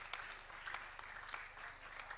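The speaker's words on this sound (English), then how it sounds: "let us first of all give a round of applause to the Honorable Duale" Applause from members in a parliamentary chamber honoring a speaker named Duale, a steady wash of many hands clapping at moderate distance, continuous and fairly even throughout.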